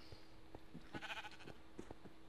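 Sheep in the Minecraft video game bleat in a few short, faint calls, with light clicks and game noises around them and no talking.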